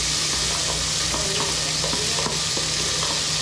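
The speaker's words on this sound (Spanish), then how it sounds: "aquí lo que estamos haciendo ahora es preparando el sofrito este" Sofrito for spaghetti sauce fries steadily in a pan, a dense, even sizzle filling the whole stretch, with faint clicks of stirring mixed in and no voices.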